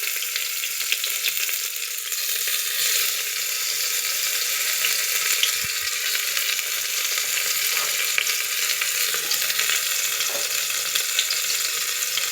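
Brinjal frying in oil inside a pressure cooker, a steady hissing sizzle with faint crackles that stays constant at moderate loudness, with no talking.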